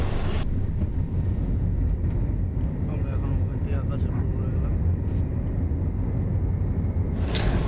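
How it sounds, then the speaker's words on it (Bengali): Airliner climbing away from the runway after takeoff from Kolkata, heard from inside the cabin as a steady, loud, broadband engine roar that stays constant throughout, with no talk. "ভূমির থেকে বিমানটি আকাশের দিকে উঠছে"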